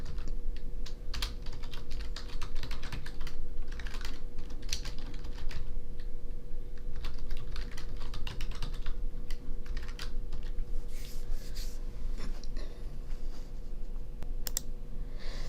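A computer keyboard clatters steadily while code is typed, with fast, even keystrokes close to the microphone and no voices.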